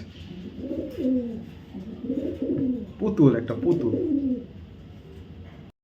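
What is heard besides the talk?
racer pigeons cooing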